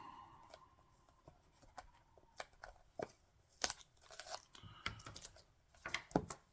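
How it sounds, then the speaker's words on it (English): A sticker being ripped off a paperback Fear Street book: close, quiet ASMR-style bursts of tearing and scratchy peeling, several short sharp rips spread irregularly across the clip. "So let's rip the sticker off."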